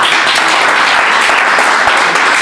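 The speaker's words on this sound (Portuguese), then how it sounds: "Então forte aplauso para Jesus." A church congregation applauds during a communion service, a dense, loud, continuous clapping filling the whole short stretch.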